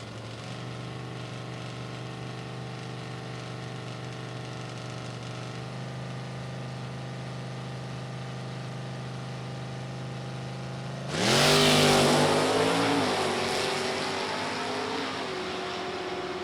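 A stock automatic LS1-powered Pontiac Firebird and a classic 1969 Chevrolet Camaro at a drag strip: a steady, rumbling idle with droning tones, then an abrupt, loud launch roar that surges and slowly fades as the cars pull away.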